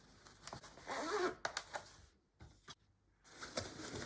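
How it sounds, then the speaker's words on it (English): Someone zips a zipper closed on a Joolz stroller seat cover, giving quiet, close rasping pulls with brief pauses and fabric handling between them. "then zip up this zipper here"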